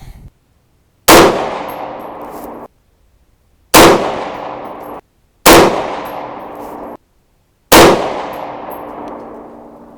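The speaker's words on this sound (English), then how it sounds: "Let's go ahead and shoot the rest of the group" Four sharp 6.5 Grendel rifle shots loaded with Accurate 2520 powder crack out at a steady pace, each followed by a long decaying ring and echo, with silence in between.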